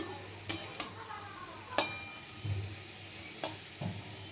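Carrot halwa being lightly fried and stirred in a pan, heard as a soft background sizzle broken by several sharp scrapes and clinks of a spoon against the metal.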